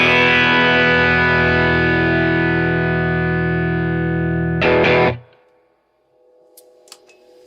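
A high-gain electric guitar through a Rift EL34 amp rings out as one loud, thick, distorted chord that sustains for about five seconds, then cuts off abruptly and leaves near silence with a few faint clicks.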